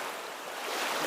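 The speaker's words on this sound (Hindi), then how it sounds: "अरब सागर है, बिल्कुल लहरें देख रहे हो।" Waves of the Arabian Sea off Kanyakumari, a soft continuous wash of surf mixed with wind noise, faint and steady, growing slightly louder.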